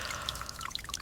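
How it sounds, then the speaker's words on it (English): Tap water runs and trickles over hands being washed at a kitchen sink, a steady close splashing with small bright drips scattered across the second. "I wash my hands."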